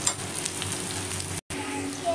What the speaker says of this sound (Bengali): পেঁয়াজগুলো এবার আমি কিছুক্ষণ ধরে ভেজে নেব